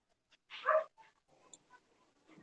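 A single dog barks loudly once, followed by fainter yips and whimpers in the background during an online structural engineering lecture, with no talk over it.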